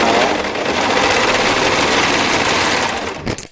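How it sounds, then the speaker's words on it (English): An overlock serger sewing machine runs at high speed right up close, a loud, steady whirring rattle that shakes the table it sits on, then cuts off abruptly just before the end. "my serger always shakes my table quite a bit"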